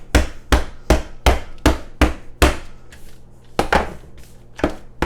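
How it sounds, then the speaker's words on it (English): Meat is pounded flat with a mallet on a hard surface, about a dozen sharp, close thuds landing in a steady rhythm roughly every half second, loud with no talking. "Now, you tenderize this, right? Make it nice and flat as best you can"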